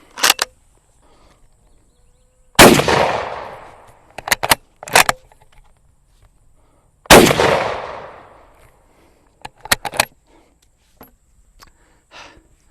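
Two loud, close carbine rifle shots firing Romanian surplus ammunition, each a sharp blast with a trailing outdoor echo, followed by metallic clicks and clatter of the bolt action being worked between shots.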